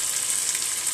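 Chicken pieces fry in an uncovered pan for chicken dopiaza, a continuous close hiss and crackle with a small rise at the end.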